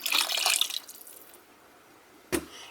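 Spring water poured into a pot of jollof rice makes a short, bright splashing pour up close, fading after under a second, followed by a brief clunk.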